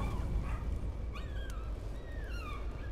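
A dog whines in the Layers of Fear horror video game, faint high rising-and-falling whimpers over a low, murky ambient drone.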